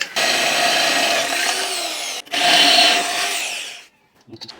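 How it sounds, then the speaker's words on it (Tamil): A power drill bores a hole into the end of a metal square tube while building an electric agricultural cultivator, a loud steady whine that briefly cuts out, resumes, then stops, followed by a few small clanks. "இந்த ஸ்கொயர் டியூப்போட ஒரு எண்டில் நம்ம ட்ரில் பண்ணி ஓட்ட போடணும்"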